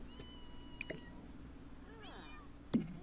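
A cat meows in the Sims 4 game, a soft single drawn-out mew with a falling pitch over a quiet background, followed by a short click.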